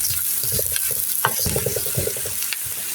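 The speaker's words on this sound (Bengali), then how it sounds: "এখন দিয়ে দেব আমি পেঁয়াজ আর রসুন কুচি। এটি আমি ভালো করে একটু ব্রাউন করে ভেজে নিব।" Chopped onion and garlic frying in oil in a frying pan, a loud close sizzle with quick stirring and scraping strokes running continuously.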